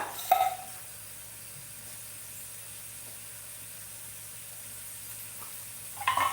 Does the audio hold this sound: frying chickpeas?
yes